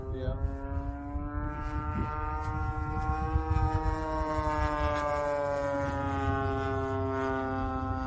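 Gas-powered RC P-47D model airplane engine runs steadily at a high, buzzing pitch with strong harmonics, loud and close for the whole stretch, its tone rising slightly partway through, with faint talk underneath.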